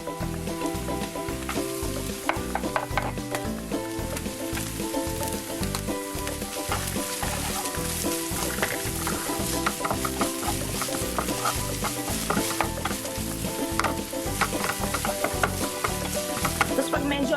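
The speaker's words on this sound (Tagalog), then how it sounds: "igigisa lang muna natin ang ating sibuyas" Onion sautéing in about a tablespoon and a half of oil in a pan, a continuous close-up sizzle with a steady crackling texture, joined by rhythmic rhythmic background music throughout.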